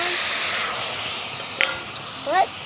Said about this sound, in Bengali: কিছুটা পরিমাণে জল ঢেলে দিলাম।